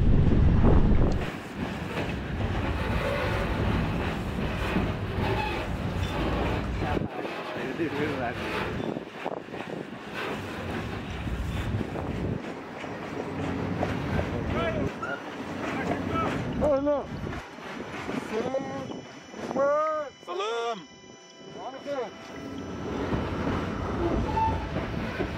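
A freight train rolls along electrified double track in Morocco, with a continuous rumbling, rattling ride punctuated by squeals and wind buffeting the microphone. Voices come and go over the noise.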